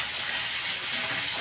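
Greens frying in a pan with chopped onion and chilli, a steady close broadband sizzle and hiss that holds evenly throughout, with no voices.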